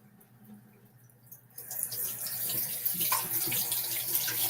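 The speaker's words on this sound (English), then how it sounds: "now just rinse that cleanser right off" Tap water running while face cleanser is rinsed off, starting quiet and then swelling into a steady, close splashing gush into a sink that carries on to the end.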